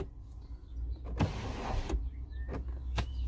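Electric one-touch sunroof on a 2017 MINI Cooper S D with a 2-litre engine sliding closed, a steady motor whir of about a second framed by soft clicks and thumps, heard in a quiet cabin.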